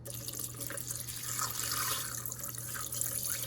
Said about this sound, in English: we're gonna pour in our filtered water